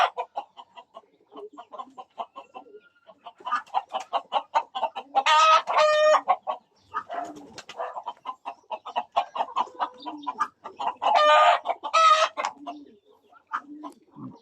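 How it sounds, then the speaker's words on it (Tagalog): Native chickens kept in the provincial countryside cluck in short, rhythmic bursts, with a couple of sharp, loud squawks breaking out among the clucks. "Dito po sa probinsya may mga alaga rin po tayong native na manok."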